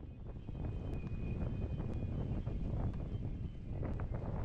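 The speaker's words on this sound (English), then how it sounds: "The wind has picked up quite a lot" Strong wind roars steadily and loudly across the microphone outdoors while windfoiling with a small sail, a dense broadband rush with no speech over it.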